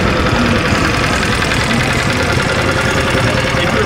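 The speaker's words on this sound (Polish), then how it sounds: "O, jest silnik i wyciskarka do soku." Engine driving a sugarcane juice press at a street stall in Bogotá, a dense, steady, loud mechanical drone with knocking vibration, running continuously without pause.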